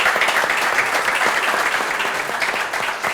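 Steady, dense applause from a crowd at an agricultural expo, clapping continuously at an even loudness throughout with no voices rising above it.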